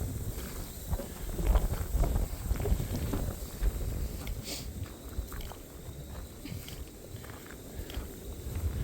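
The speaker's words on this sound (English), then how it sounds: "Wind is pushing me right along up this trail." Strong, gusty wind buffets the microphone on a hill trail in Maplewood State Park, a steady broadband roar with surges, along with scattered footsteps and no talk.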